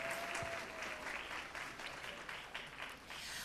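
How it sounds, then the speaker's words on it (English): An audience at a library foundation gala claps steadily, a sustained wash of applause from a crowd at moderate distance with no voices on top. "Let's give a big round of applause to our president of the Library Board Foundation, Bob Jin."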